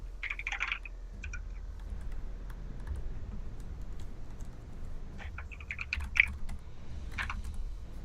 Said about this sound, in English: Hear lots of vigorous typing